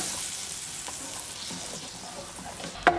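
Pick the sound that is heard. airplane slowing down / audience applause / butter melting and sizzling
butter melting and sizzling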